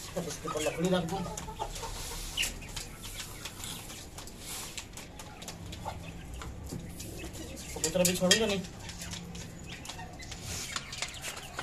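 A hen clucks in short bursts near the start and again later, fairly faint, amid rustling and quiet background noise.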